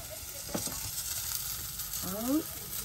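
Flatbread frying in a pan for breakfast inside a camper van on a damp, rainy day: a soft, steady sizzling hiss with a few light clicks and a short squeaky scrape near the end.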